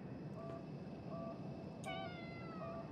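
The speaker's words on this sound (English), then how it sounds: "Hello, black cat." A black cat meows in a Lovecraftian horror video game, several short tonal mews spaced across the clip over a low, quiet ambient background, with no one speaking.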